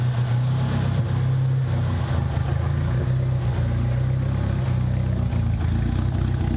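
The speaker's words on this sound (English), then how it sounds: "I don't hear great things out of the turbo" A Nissan 200SX turbo engine idles steadily with a low, constant drone and slight roughness, nearby and alone without talk.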